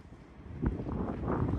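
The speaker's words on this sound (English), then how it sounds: "It might be a bit windy here as well" Wind blowing outdoors makes a low, steady rumble that buffets faintly and swells slightly toward the end, with no voices.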